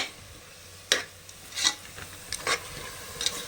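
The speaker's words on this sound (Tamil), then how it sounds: "ஸ்டவ் வந்துட்டு ஹை ஃப்ளேமில் வச்சு நல்லா பரட்டி விடுங்க" Vegetables for a Bangalore-style veg biryani are stir-fried on a high flame, with a few sharp scraping stirs of the utensil against the pan over a low, steady sizzle, close and moderately loud, with no talking.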